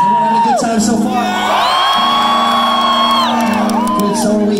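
A sold-out concert crowd at a live rock show in Orlando cheers and whoops loudly and continuously, high shouts rising and falling above a dense roar.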